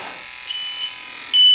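Refrigerant leak detector for R410a work set off by breath, giving a loud steady electronic beeping alarm that steps up to a sharper, stronger tone at the end.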